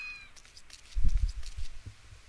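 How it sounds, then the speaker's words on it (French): A cat meowing in the video game Postal 2 Paradise Lost, a short high cry at the start followed by faint repeated mews over low thumping footsteps. "Il y a encore un chat."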